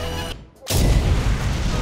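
A brief hush, then a sudden heavy boom bursts out and keeps roaring with a rumbling, crackling blast, an animated hand-drawn-style explosion effect for a children's film.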